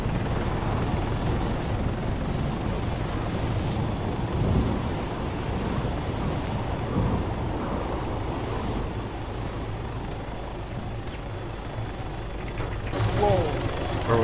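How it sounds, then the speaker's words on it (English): A helicopter drones steadily in a video game, a continuous low rotor rumble with wind-like rushing that rises and falls over the whole stretch while players talk over it. "I think a chopper just dropped people around there."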